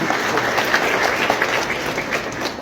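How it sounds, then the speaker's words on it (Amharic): A church gathering audience applauds, dense, steady clapping from many hands filling the whole moment, loud and continuous with no voices standing out. "አጨብጭቡና ገለጹ።"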